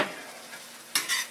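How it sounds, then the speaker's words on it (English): Spaghetti sauce with vegetables stirred in a pan, a close scraping stir with light sizzling, ending in a sharper clatter of the utensil against the pan. "Mix that sauce."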